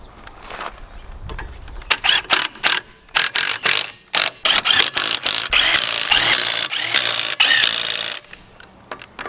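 Rapid bursts of ratchet-wrench clicking as lug nuts on a 2021 fifth-wheel trailer wheel are tightened, loud and close, in repeated short runs with brief pauses and a sustained ratcheting stretch near the end.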